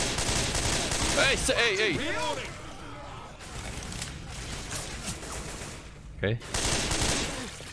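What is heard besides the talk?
gunfire in Minecraft Left 4 Dead mod video game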